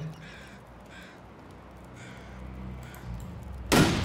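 A video-game crow caws several times in short bursts at a distance over a low ambient hum, then a sharp gunshot rings out at the end.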